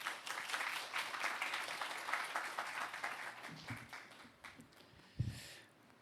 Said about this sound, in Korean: 이 시간 목사님 나오실 때 우리 하나님 앞에 또 영광의 박수로 그렇게